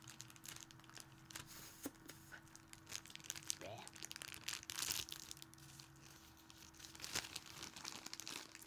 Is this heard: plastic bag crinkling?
yes